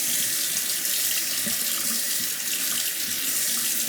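Water runs in a steady, continuous stream onto a whetstone used for honing a straight razor, close and alone with no talking.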